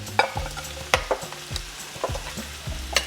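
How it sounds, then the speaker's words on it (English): A spoon stirs a Spanish omelette mixture of beaten egg and chorizo in a bowl, giving a series of sharp, close clinks and scrapes at irregular intervals with soft wet churning between them. "Mix this completely here."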